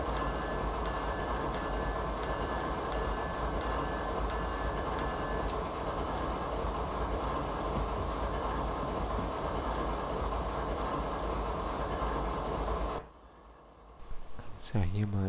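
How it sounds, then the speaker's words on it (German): Train running on rails in a video game: a steady, loud rumble with rhythmic clatter from the wheels that continues for about thirteen seconds, then cuts off abruptly, followed by brief faint sounds. "hier mal in dem Modus den Zug anschauen"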